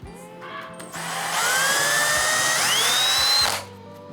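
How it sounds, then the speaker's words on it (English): A drill drives a Forstner bit into plywood while building a first aid kit box. The drill whines up in pitch, runs for about two and a half seconds, then winds down, close and loud with no voices. "Now the key on the Forstner bits is you want to creep up on this hole"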